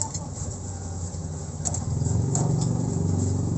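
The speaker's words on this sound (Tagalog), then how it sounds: "kung napapansin nyo yung lining nya, wala na talaga, kaya puro ingay na lang ng makina nya, marinig mo." A Kawasaki Barako 175 motorcycle engine with worn-out clutch lining runs steadily nearby, a rattling mechanical drone that rises slightly in revs partway through.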